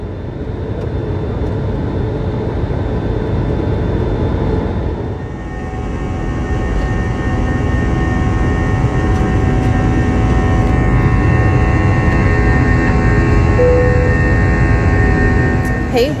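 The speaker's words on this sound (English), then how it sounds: "I am on the plane." Steady airplane cabin noise in flight, a loud constant engine roar and hum with tonal drones that persists throughout, slightly shifting partway through.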